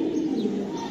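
Racing pigeons in a loft coo softly and continuously, a low steady murmur of birds with faint chirps on top and no talking.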